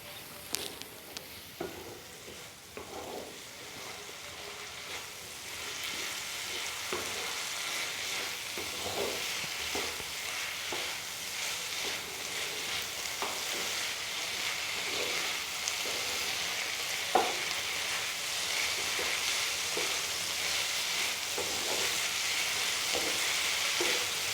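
Vegetable stuffing stirred in a sizzling pan after a spoonful of soy sauce goes in: a continuous frying hiss with scattered spoon scrapes and clicks against the pan, steady and close.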